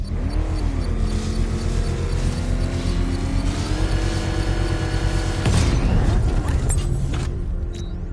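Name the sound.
power winch triggering controlled bomb explosion, Batman Arkham Knight video game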